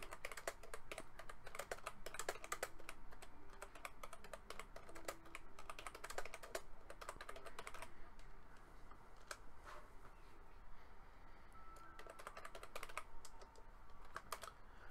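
Someone types rapidly on a computer keyboard during a card game, quiet close clicking in bursts with brief pauses, a light patter of keystrokes throughout.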